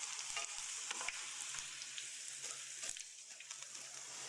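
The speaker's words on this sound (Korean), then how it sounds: "또 이렇게 들어가자마자 또 금방 또 튀겨지니까 좋죠" Dried eggplant fries in hot oil with a dense, steady sizzle and occasional crackles and light knocks, close but fairly quiet, with no talking.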